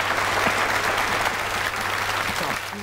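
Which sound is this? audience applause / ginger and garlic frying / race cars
audience applause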